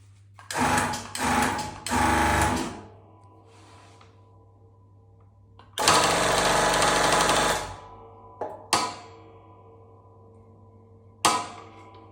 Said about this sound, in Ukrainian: за допомогою електричної маслостанції, за допомогою кнопки приводимо в рух наш гідравлічний шток.